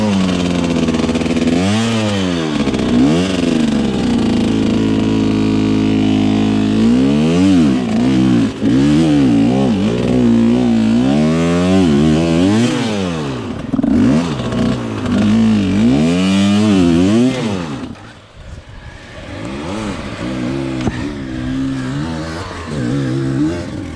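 An enduro dirt bike with a Yamaha-based motor revs repeatedly, its engine pitch rising and falling in sharp blips over a long stretch of loud, close riding, dropping briefly near the end before picking up again.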